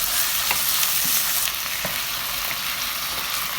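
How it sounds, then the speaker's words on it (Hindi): Mutton frying with onions in a hot non-nonstick karahi gives a loud, steady, close sizzle, broken by a few soft knocks from stirring. "तो मटन डाल के हमने इसको प्याज के साथ उतना भूनना है कि मटन का जो कलर है वो चेंज हो जाए।"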